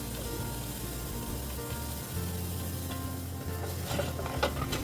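Ghavan batter cooking on a hot tava over a high flame: a steady, fairly quiet sizzle and crackle continues throughout, with faint low hum beneath and no voices.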